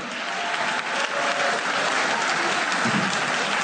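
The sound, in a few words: applause for squash champion Noor Zaman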